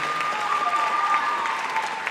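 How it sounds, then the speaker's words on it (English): Audience at a school fall band concert giving a steady round of applause, dense and even clapping from a crowd, fairly close and unbroken for the short span. "So we can give them both, all of the belt earners, a round of applause again."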